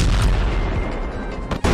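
Bazooka rocket explosions in the Gorilla Tag VR game: a loud, dense booming roar fills the clip, with a brief dip and then a sharp fresh blast near the end.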